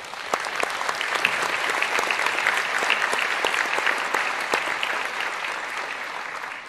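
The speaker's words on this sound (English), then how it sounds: "I know you clapped" A conference audience at an African Development Bank investment event claps steadily and densely for several seconds, a sustained full round of applause with no voices over it.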